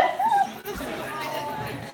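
Dogs at a dog obedience show bark and yip in short bursts, close and loud, over crowd noise while someone talks.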